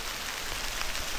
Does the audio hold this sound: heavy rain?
yes